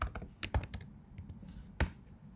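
Keystrokes on a computer keyboard, a quick burst of several taps, a short pause, then a single sharp key press, close and clear.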